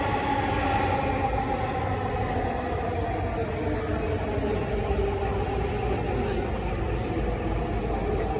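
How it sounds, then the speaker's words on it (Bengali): A Dhaka Metro Rail train pulls into an elevated station with a loud, steady rumble and hiss of wheels and carriages that fills the whole stretch, with faint crowd voices underneath. "আইসে ট্রেন।"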